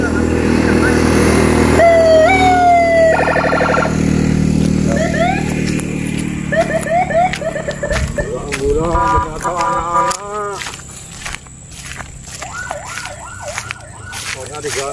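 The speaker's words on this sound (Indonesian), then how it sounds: "rubah klaksonnya jadi klakson bunyinya kayak bunyi alarm" A motorcycle horn modified to sound like a siren wails, sweeping up and down in repeated warbling bursts over engine noise and street sounds.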